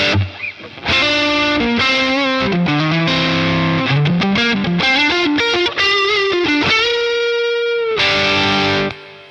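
An electric guitar plays distorted notes and chords through a Boss Katana amp with reverb, sustained tones ringing out with a lingering tail, loud and close.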